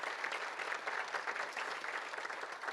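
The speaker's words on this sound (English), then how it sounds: "Please share a round of applause of appreciation for those sponsors." A seated audience at a State of the Cities civic address applauds for the sponsors, a dense, even wash of clapping that holds steady throughout.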